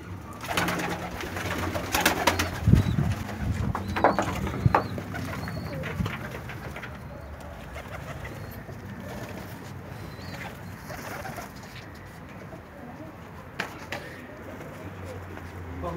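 Pigeons coo repeatedly inside a pigeon coop, with wing flutters and rustling early on and a soft coop background; a voice speaks intermittently among the birds.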